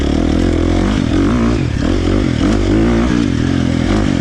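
A KTM 350 XC-F dirt bike with a Vortex ECU tune by Twisted Development runs steadily in third gear. Its loud, close engine drones continuously with slight rises and dips in pitch and no speech.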